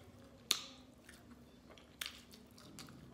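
Two sharp crunches of a KFC glazed donut chicken sandwich being bitten and chewed, about a second and a half apart, close up against a quiet room hum.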